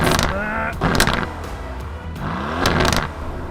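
Aston Martin Vantage sports car with an engineered upshift crackle, revving in bursts that rise and drop, with sharp popping blats on the shifts, loud and close, and a voice talking over parts of it.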